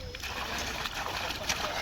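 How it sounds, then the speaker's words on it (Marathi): Water from an Ecozon solar pump outlet gushes and splashes steadily in a continuous broadband rush on a farm, close and fairly loud throughout. "बघू शकता पाणी चालू झालेलं आहे"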